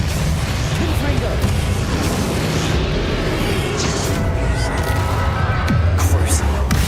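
A fire spell bursts loudly in a wizarding video game, a dense, sustained booming blast with crackling rumble. Speech is mixed in over it.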